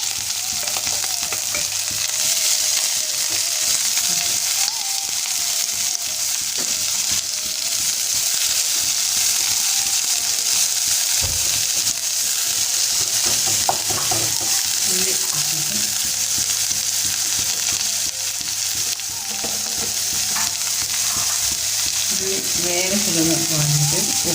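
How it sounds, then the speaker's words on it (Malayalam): Sliced onions sautéing with salt in a pan for a jackfruit seed masala curry, a loud continuous sizzle with intermittent stirring scrapes and spoon knocks, close and sustained, with no talking over it. "ഉപ്പ് കുറച്ചിട്ട് കഴിഞ്ഞാൽ ഉള്ളി വേഗത്തിലൊന്ന് വാട്ടിക്കും"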